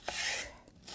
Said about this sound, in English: I'll do my best to make tiny pieces.